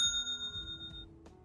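Bright bell-like notification chime with sustained ringing tones that fade after about a second, followed by a soft short tick, standing alone.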